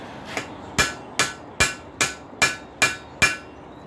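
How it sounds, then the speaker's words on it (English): A hammer strikes a rivet on hot spike head hoof nipper tongs, eight sharp metallic blows in an even, steady rhythm, close and clear with no talk. "While I got her here hot, tighten that rivet up a little bit."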